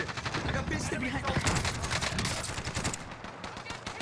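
An RPD machine gun fires in a video game in sustained, rattling automatic bursts, loud and steady for about four seconds, with other game noise mixed in.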